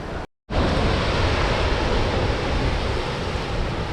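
Ocean waves crashing on a shore along a coastal walk, a loud, continuous roaring wash of surf close by, broken only by a brief dropout near the start.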